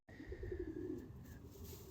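Pigeons in a loft, yellow grizzles and Egyptian swifts among them, give a soft, close, rolling coo that lasts about a second over a low murmur of other birds.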